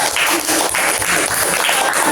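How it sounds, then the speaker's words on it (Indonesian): A classroom of students applauds a group after its presentation in a science lesson on electric circuits, with steady dense clapping throughout the short clip. "Ya, tepuk tangan buat kelompok 3"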